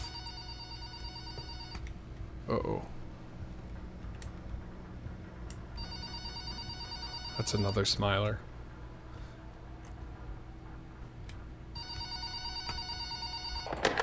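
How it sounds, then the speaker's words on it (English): Telephone ringing inside the Backrooms horror video game Transliminal: Beyond the Backrooms, repeated electronic ring bursts at steady volume over a low ambient hum, with someone speaking briefly between rings. "generally, when you hear the phone ringing, answer it."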